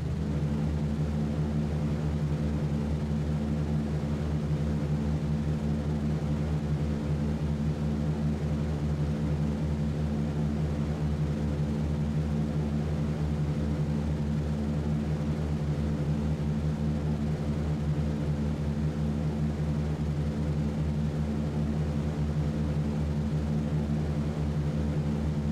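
Four propeller engines of a B-17 bomber in a flight simulation game run at steady high power during takeoff, a continuous loud droning hum with strong low harmonics that holds evenly throughout, with no talk.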